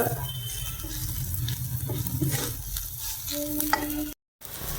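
Onions and potato sizzling and being stirred in hot oil, a steady frying hiss with occasional scraping of a spoon in the pan.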